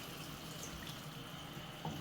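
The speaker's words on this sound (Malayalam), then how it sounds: "ഈ മിക്സിയുടെ ജാറ് കഴുകിയിട്ട് ചാറിന് ആവശ്യത്തിനുള്ള വെള്ളം ചേർത്ത് കൊടുക്കാം." Water from a rinsed mixer grinder jar pours into a green masala egg curry base, a steady wash of running liquid throughout with no talking.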